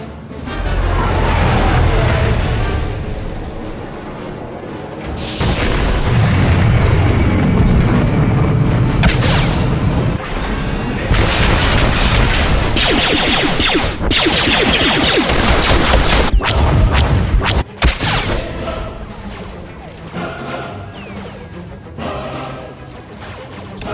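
Artillery shells in Star Wars: The Old Republic land with heavy booms and crashing blasts in repeated bursts, loud and close, under a continuous battle rumble.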